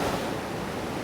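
Treated water pours out of a wastewater treatment plant in Lake Stevens, Washington, as a loud, steady broadband rush with no talk over it.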